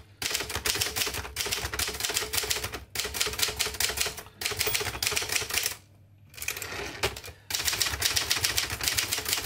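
Typing on a 1958 Adler Special manual typewriter: rapid bursts of clacking keystrokes in close, loud runs, separated by short pauses and one longer quiet gap.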